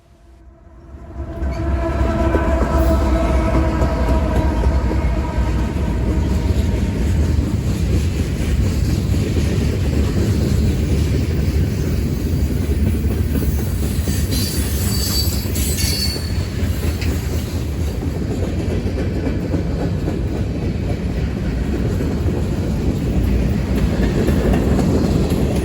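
A southbound freight train rolls past in Maryland, a loud steady roar of cars and wheels with some squealing and a rhythmic clatter that holds for the whole stretch.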